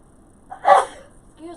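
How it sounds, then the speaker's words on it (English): A single quick sneeze, close and fairly sharp, in an otherwise quiet setting. "Oh, I just sneeze."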